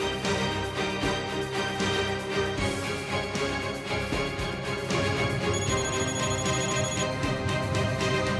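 A telephone rings with a repeating electronic ringtone that runs steadily for about eight seconds over a busy background.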